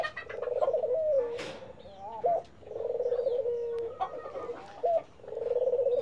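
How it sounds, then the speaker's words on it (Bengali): A dove coos repeatedly close by, rhythmic soft calls in several phrases separated by short pauses, with no other sounds competing. "ঘুঘু পাখিটা আমার সামনে ডাকাডাকি করতেছে।"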